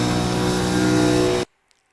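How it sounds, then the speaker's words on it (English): Road Atlanta race car engine pulling hard in sixth gear down the hill, a loud, steady high-rev drone close by that cuts off abruptly near the end, leaving near silence. "We'll hit 6th gear. And we'll top out in 6th gear going down the hill."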